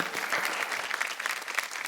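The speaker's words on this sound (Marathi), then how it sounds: "एकदा जोरदार टाळ्या होऊन जाऊ" A studio audience at a Marathi TV game show claps enthusiastically, producing an even, sustained burst of crowd applause at moderate volume, with no voices over it.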